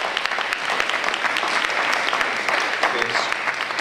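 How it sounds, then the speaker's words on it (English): An audience at a legislative advocacy day breaks into steady, dense applause that fills the room without pause, with some voices mixed in. "So give yourselves a round of applause for this."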